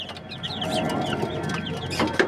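Gamefowl roosters in a breeding flock cluck in a quick, near series of short calls, with a sharper squawk at the end.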